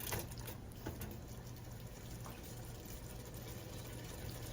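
Water pours steadily into a pan of Chicken Manchurian being cooked, a soft continuous rushing with a low hum beneath, no talking.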